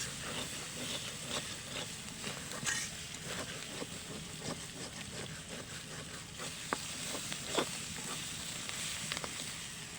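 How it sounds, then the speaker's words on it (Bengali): Ground spice paste for an Eid meat dish fries in a pan with a soft, steady sizzle, faint and even, broken by a few small crackles and taps. "আর বাটা মশলাগুলো এই জন্য আগে একটু ভালো করে ভেজে নিচ্ছি।"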